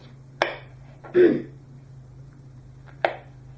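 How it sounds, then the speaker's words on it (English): A knife slicing peppers into small pieces on a cutting board, giving a few sharp, separate cuts spaced apart, close and fairly quiet, with no talk. "So then cut pepper again into small slices."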